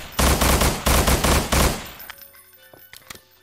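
Automatic gunfire in the video game Estranged as a whole magazine is emptied, three loud close bursts of rapid shots followed by fainter scattered shots and ambient game sounds.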